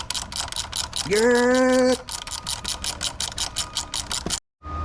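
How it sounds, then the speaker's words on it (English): A spanner works the bolts on a Harley-Davidson Fat Bob FXDF with a rapid, close ratcheting clatter, interrupted by a short tonal squeak and ending in a brief silence; someone says a single word. "And then I'll get a little spanner for these blokes, take them off."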